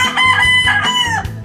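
A Yellow-Legged Dutch rooster, a brood stag, crows once loud and close, a harmonic drawn-out call that breaks near the end.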